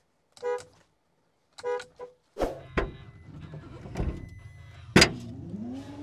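Two short horn honks from a 2025 Chevrolet Silverado EV RST electric pickup sound close by, followed by clicks, a running engine and further mechanical noises.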